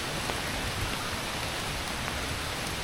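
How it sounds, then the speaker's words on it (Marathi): Fine, light drizzle falling steadily through dense Sahyadri forest on a trek path to a temple, a soft continuous patter with no voices over it. "थोडा बारीक बारीक एकदम चालू आहे पाऊस"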